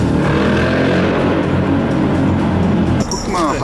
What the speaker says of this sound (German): wir fahren hier jetzt in einen Tunnel, der direkt nach Paris führt